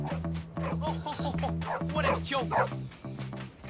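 A dog in the video game Bully gives a rapid series of short yipping barks, fairly close, partly under a steady repeating musical tone and some overlapping game voices.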